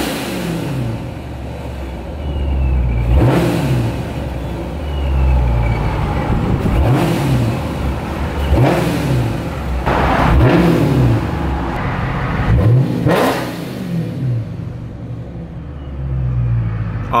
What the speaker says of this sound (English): I can't end this video without giving you a little listen to the blower.